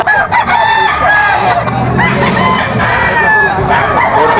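Gamefowl roosters, including Red Kelso and golden boy stags, crow loudly and repeatedly at a busy pet market, overlapping one another with clucking and a crowd murmur underneath.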